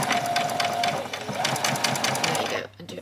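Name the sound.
sewing machine back stitching a doll's dress seam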